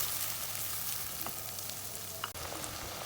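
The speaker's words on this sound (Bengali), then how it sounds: "এবার চুলায় একটি কড়াইয়ে দিয়ে দিলাম সর্ষের তেল আর সয়াবিন তেল দিয়ে দিচ্ছি পেঁয়াজ বাটা" Onion paste fries in a wok of mustard and soybean oil, giving a faint, steady sizzle that runs the whole time with no voices.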